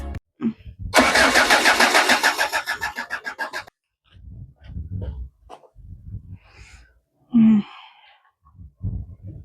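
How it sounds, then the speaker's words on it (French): A diesel engine cranks after its fuel system has been primed, a fast rhythmic churning lasting about three seconds before cutting off, followed by quieter handling noises and a breathy sigh nearby. "On se retrouve maintenant à avoir des problèmes de démarrage."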